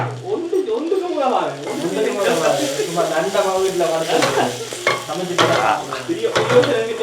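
Garlic-ginger paste sizzles and fries in a pan for chicken curry in Colombo, with steady stirring and scraping throughout while people talk over the cooking.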